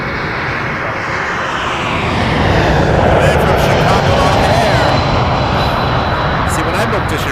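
An Airbus A330-300 jet taking off from runway 05 at Toronto Pearson Airport, a loud broad engine roar that swells over the first seconds and stays strong and sustained, with talk over it.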